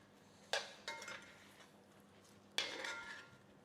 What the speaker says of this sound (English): let's use our spoon now, so we can turn it over